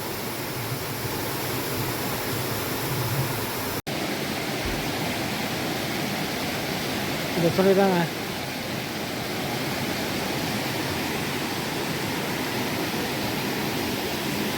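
Water pours on all sides like a waterfall at the Baba Dhansar temple in Katra, Jammu and Kashmir, making a steady, broad rushing hiss through the whole stretch, with a short bit of chirping or voice partway through.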